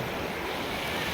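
Floodwater rushing after heavy rain near Maredugudem village in Pinapaka mandal, Telangana, a steady broad roar of moving water with wind buffeting the microphone, constant and unbroken.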